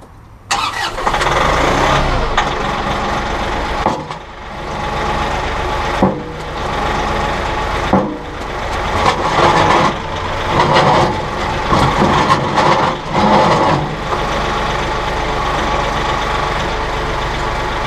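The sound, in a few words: tractor engine running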